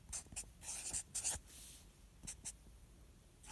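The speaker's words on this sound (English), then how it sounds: "So let's write it on our sheet." A pen scratches and taps on a paper worksheet in short close strokes, with bursts of writing separated by brief pauses and no talking.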